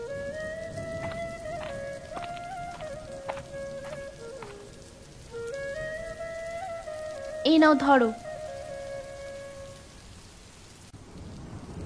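Steady rain falls through a cartoon scene, a soft continuous wash under voices and a short musical jingle, with people talking over it.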